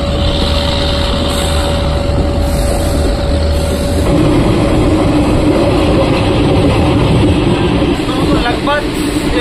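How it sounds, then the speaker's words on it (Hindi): Garib Rath Special Express running at about 120 km/h, with a steady loud rumble and rattle of wheels on rails heard from inside the coach, joined by a faint steady tone and a few brief higher squeaks. "लगभग 120 किलोमीटर प्रति आवर की रफ्तार से भी यहाँ पे हमारी गरीब रथ चल रही है।"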